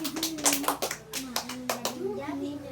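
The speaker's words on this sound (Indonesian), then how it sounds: "tepuk tangan untuk Alisa" Children in a fifth-grade classroom clap for a classmate who answered correctly, a run of rhythmic, fairly close claps over the talking voice of a child.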